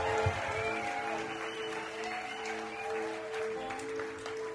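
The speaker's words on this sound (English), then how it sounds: "keep that applause going for Ryan Flynn" An audience claps in sustained, steady applause for a storyteller at a Moth GrandSLAM storytelling event, filling the room evenly without a break.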